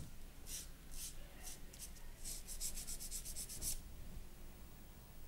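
Acrylic nail being hand-filed to smooth and bevel it toward the tip, giving a run of quick, soft rasping strokes that speed into a rapid rhythmic burst before stopping, close and fairly quiet.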